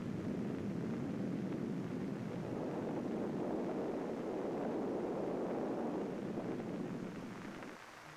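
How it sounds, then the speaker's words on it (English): A Polaris rocket motor test firing produces a steady, distant broadband roar with a windy, rushing texture that holds for several seconds and then fades slightly at the end. "witness the test of a Polaris rocket motor"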